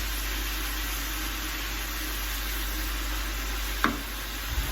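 Mince and vegetables sizzle steadily in a pan for pasta, a continuous frying hiss with a brief scrape of stirring near the end.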